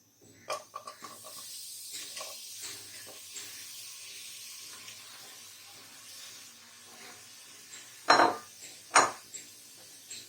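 Tomato cubes go into a hot pan with no added water for a tomato sauce, giving a low steady hiss with a few pot knocks early on and two sharp loud clatters near the end.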